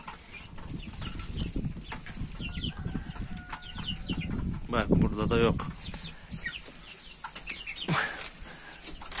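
Young Splash Wyandotte chicks and turkey poults squabble and cluck with some wing flapping, busy and close, while a person talks over them.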